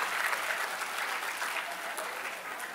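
A seated audience at an environmental gathering rubs and pats their hands to mimic heavy rain, making a dense, steady hiss of patter that holds evenly for the whole stretch.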